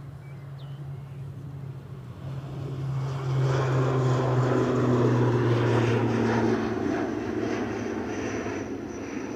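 A Eurowings passenger airplane passes at Edinburgh airport, its jet roar swelling from a low drone into a loud steady rush and then holding at a distance.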